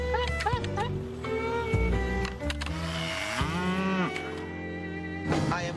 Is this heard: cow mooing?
yes